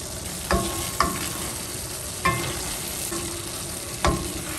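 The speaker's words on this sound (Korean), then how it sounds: "불을 끄고 이렇게 한번 섞어주면은 남은 열로도 충분히 어우러질 거예요." Mapo tofu with enoki mushrooms and chives being stirred in a pan off the heat, a few separate scraping strokes of the utensil against the pan over a soft, steady sizzle, close and alone.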